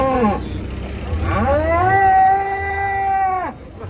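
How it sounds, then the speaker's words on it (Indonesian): A cow being unloaded from a truck moos twice nearby, a short low call followed by a long drawn-out bellow, loud and close. "Datangan sapi ngamuk"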